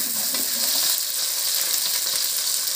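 Small shallots and green chillies fry in hot oil with mustard seeds and fenugreek, a loud, steady, close hiss of sizzling with faint stirring and no talk.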